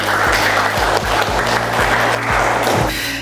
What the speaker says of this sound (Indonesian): tepuk tangan untuk kesiswaan yang menggembok ya